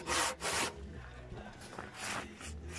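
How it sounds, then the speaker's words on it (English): A circular saw cuts along a marked angled line through a static caravan roof, giving two loud, harsh bursts of sawing, then a lower rough grinding as the blade struggles, and another loud burst near the end. "The old circular saw struggle a little bit."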